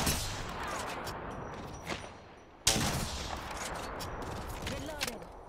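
Apex Legends firefight with bursts of gunfire at moderate distance, a sharp loud crack midway and scattered shots around it, under game ambience and occasional talk.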